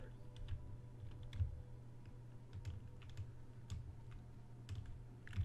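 Computer keyboard keys clatter in quick irregular taps during a Resident Evil game session, fairly quiet over a low steady hum with no voices.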